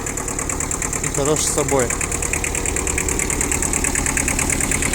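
Rear-wheel-drive mini tractor engine idles in a steady, knocking mechanical chug with a persistent high ticking rattle, while someone talks briefly over it.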